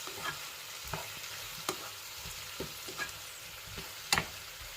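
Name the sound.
stirring spices together in a pan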